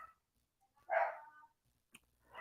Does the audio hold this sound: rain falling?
no